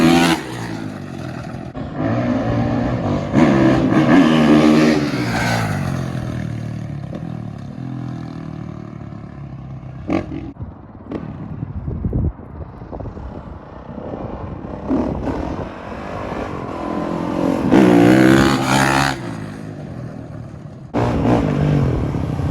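A Honda CRF450R dirt bike being ridden, its engine revving loudly up and down in repeated surges with a drop to a quieter stretch midway before climbing again, close then receding.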